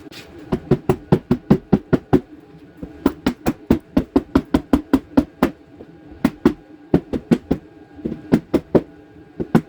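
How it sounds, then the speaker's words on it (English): Sharp hammer blows on plastic clips of a Ford F-150 fender liner strike in quick bursts of several hits, pausing briefly between runs, close and loud against a quiet background. "I'm gonna hammer all these plastic clips here."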